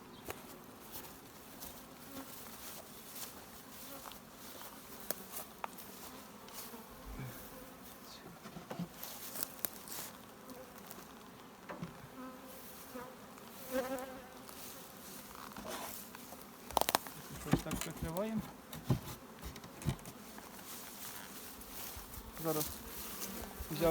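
Honey bees buzzing around an open horizontal hive during a May inspection, a dense droning hum with individual bees passing close, plus occasional clicks and rustles of frames being handled.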